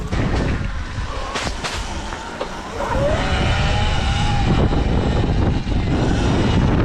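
A full-sized electric dirt bike rides past outdoors with a rising whine and rushing wind noise, loud and close, the motor pitch sweeping upward mid-ride.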